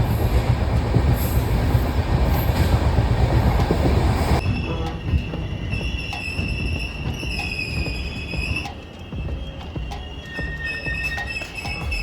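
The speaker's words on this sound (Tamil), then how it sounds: "ரொம்ப ஸ்பீடாக ட்ரெயின் கிளம்பிச்சு." A passenger train pulls away at speed on a route toward Sathuragiri hill, with a loud steady rumble of wheels and cars, then high squealing wheel tones and rhythmic clicking as it runs on continuously nearby.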